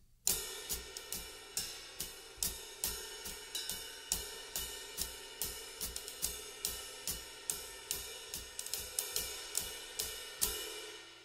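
Drum groove from a song, a steady kick-drum pulse with cymbal hits ringing over it, played close and unaccompanied for about eleven seconds with regular repeating strokes.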